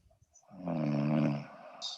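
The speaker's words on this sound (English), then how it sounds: "Somebody's snoring." Someone snoring over an online group call, a single long rumbling breath rising and fading, close and fairly loud.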